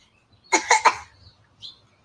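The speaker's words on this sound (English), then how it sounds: "The hell you coughing for?" Three quick, harsh coughs close by in a row, followed by a brief faint chirp in an otherwise quiet space.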